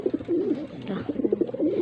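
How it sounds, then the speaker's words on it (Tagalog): A pigeon coos in a close, low, rolling series of repeated throaty calls over a brief stretch. "Yung kalapati natin yan"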